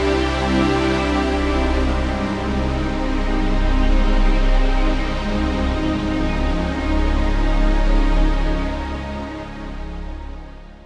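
A dense, sustained synthesizer pad chord with no reverb holds steady and full for several seconds, then slowly fades out at the end.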